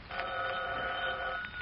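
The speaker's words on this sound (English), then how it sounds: "Hold it a minute. Answer the phone, Mary." An old-time radio show sound effect of a telephone bell ringing, one steady continuous ring heard alone and fairly loud.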